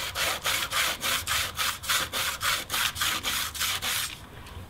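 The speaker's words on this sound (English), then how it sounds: "Looks like it's sanding out pretty good." Sandpaper is worked back and forth over a paint run on a sprayed door, making a loud, rhythmic series of about fifteen even rasping strokes before it stops abruptly.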